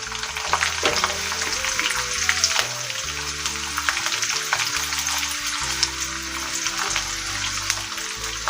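Chopped onions frying in a hot pan with peanuts already added for chukka kura rice, giving a loud, steady, dense sizzle that runs unbroken throughout with faint crackles and no talking.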